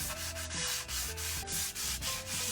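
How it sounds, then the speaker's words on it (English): Steady, rhythmic rubbing strokes of sanding with a fine sponge, repeated back and forth at close range with no talking. "A little bit of sanding."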